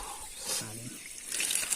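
A mountain stream pours and splashes nearby, a soft watery rush that swells and fades over a brief stretch, with a faint voice in the background.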